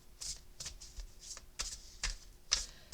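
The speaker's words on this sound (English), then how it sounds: "I'm shuffling the deck upside down." A tarot card deck shuffled by hand, face down, giving bursts of crisp riffling and card slaps in an irregular rhythm, close and fairly quiet, with no talk.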